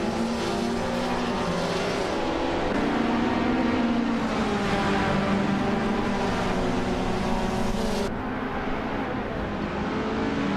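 Race cars in a video game roar continuously at high revs, a dense, loud engine drone with shifting pitch as cars battle for position, with no talking.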